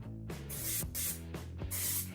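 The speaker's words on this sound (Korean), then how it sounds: "유리병 속을 헤어스프레이로 뿌려준 뒤에" Hairspray hisses into a glass jar in three steady close bursts separated by brief pauses, soft and even with no voices.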